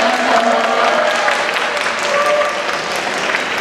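An audience at a talk concert claps loudly for figure skater Yuna Kim, a sustained dense wave of applause that holds steady and then eases slightly toward the end.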